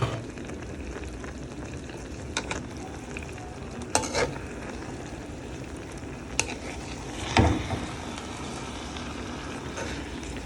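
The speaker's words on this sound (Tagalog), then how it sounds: "so atin ang haluin." A spoon stirs laing, a simmering coconut stew, in a pan, with soft bubbling and sizzling throughout and a few scraping clinks against the pan.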